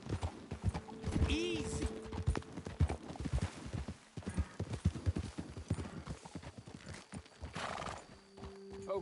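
Horse hooves clip-clopping in Red Dead Redemption 2 as riders move up toward a ledge, steady hoofbeats throughout with a whinny early on, under brief speech and game ambience.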